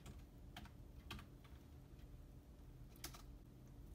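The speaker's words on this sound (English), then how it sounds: "what we're gonna type into the screen is" Soft, faint keystrokes typing ipconfig on a computer keyboard, a few quick scattered clicks over a quiet room hum with no talk.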